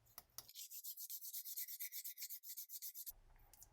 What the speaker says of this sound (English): I'm going to sand this piece to get rid of any sharp or jagged edges.